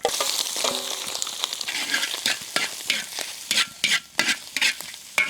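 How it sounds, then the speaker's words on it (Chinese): Sliced pig lung stir-fried in hot oil in a wok, giving a close, steady sizzle with repeated scraping stirs that grow louder and more rhythmic toward the end. "油热以后把猪肺炒一下"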